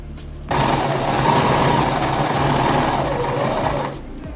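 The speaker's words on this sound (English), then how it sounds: "sew a straight stitch to secure." A sewing machine runs a straight stitch along the double-folded hem of a shirt sleeve, one steady continuous whir from start to finish, close and fairly loud with no talking.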